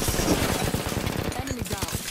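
Rapid gunfire bursts in the battle royale game Apex Legends, a dense rattling stream of close shots with quick repeated pops over background game noise.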